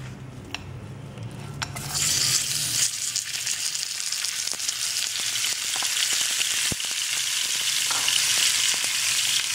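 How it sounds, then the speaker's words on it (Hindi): Minced meat frying in oil over low heat for a samosa filling, starting quietly and then, about two seconds in, breaking into a steady, close, crackling sizzle that carries on without a break. No one speaks. "इसको फ्राई करना है।"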